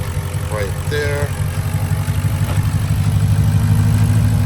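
A Porsche engine idling steadily at close range, a low continuous rumble with faint chirps over it early on.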